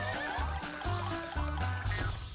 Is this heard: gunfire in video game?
no